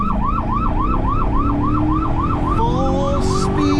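A police car siren wails in a rapid, steady up-and-down cycle, loud and close, then switches to a different siren pattern partway through, with road and engine noise underneath.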